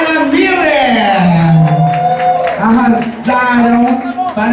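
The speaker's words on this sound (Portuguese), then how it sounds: "Vamos aplaudir, gente, esses dois artistas maravilhosos." A nightclub crowd cheers for two drag performers, with loud, drawn-out whooping shouts and cheering voices rising and falling over faint clapping, close and boisterous.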